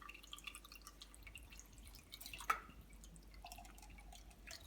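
Water drips through soil and bark in an erosion test, giving a single small, quiet drop over a soft, hushed background, with no speech.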